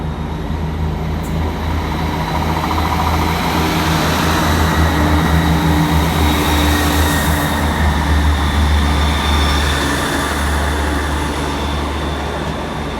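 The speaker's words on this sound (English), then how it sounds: "Looks like we got the Great Western Railway service to Brighton now departing" A Great Western Railway train to Brighton via Bristol Temple Meads pulls out of Cheltenham Spa station, with a loud, continuous diesel engine drone and rumble close by, holding steady throughout.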